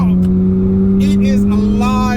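A Mazda RX-7 pulls hard under acceleration, its engine note rising steadily and loud inside the car while occupants talk and exclaim over it.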